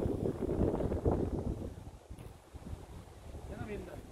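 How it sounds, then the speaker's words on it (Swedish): Gusty wind buffets the microphone in loud rumbling bursts on a disc golf course, easing briefly midway before picking up again, with faint water movement beneath. "Tjena vinden."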